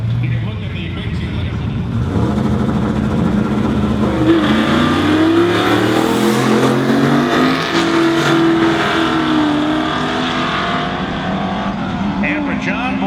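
A Crown Vic does a burnout at a drag-strip event, its engine roaring and revving loudly with rising and falling pitch, heard among crowd noise and an announcer talking over it.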